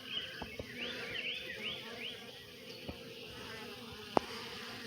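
Honeybees buzz around an open hive frame in an outdoor bee yard, a faint, wavering drone of wings with a few brief louder passes of single bees close by and soft clicks and handling noises.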